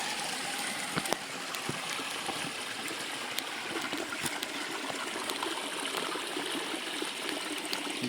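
Water of the Khardu stream flows continuously near a dam and intake area, a steady close rush with scattered small splashes and gurgles throughout.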